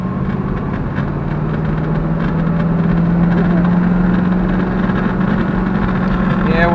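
A Studebaker-era Avanti car drives under its own power with a steady engine drone and road rumble throughout, fairly loud and close, while people talk over it.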